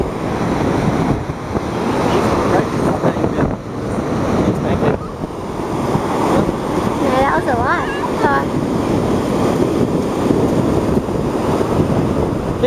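Ocean surf washing onto a beach in a steady broadband roar, heavily buffeted by wind noise on the microphone, with a voice and brief talk breaking through partway.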